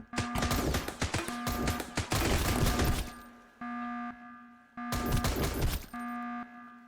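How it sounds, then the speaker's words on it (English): Gunfire in the survival game Sunkenland, dense bursts of rapid shots crackle loudly up close, pausing between volleys while an electronic game tone hums underneath. "I'd rather shoot you."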